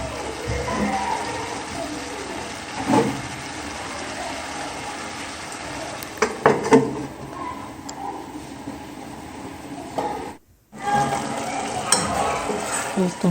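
Chicken, onion and chopped peppers sizzle and fry in a pan while a spoon stirs them steadily, with scraping stirs and soft clatter against the pan through most of the stretch and a brief pause near the end.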